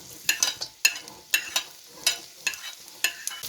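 Sliced onion sautés in oil in a kadai, a soft sizzle under rhythmic spatula stirs that scrape and clack against the pan about twice a second, close by with no speech.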